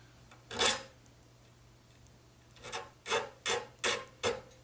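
A push file scrapes the burr off the edge of a pen blank: one stroke, a short pause, then a run of four or five close, rhythmic rasping strokes, alone and near.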